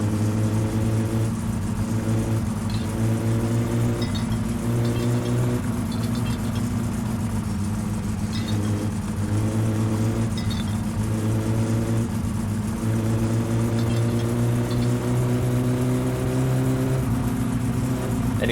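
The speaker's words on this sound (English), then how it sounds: "It also sounds like this thing has no exhaust pipe right now." A car engine with no exhaust pipe in My Summer Car, droning loud and raw for the whole stretch, its pitch rising and falling through repeated revs over a steady idle-like rumble.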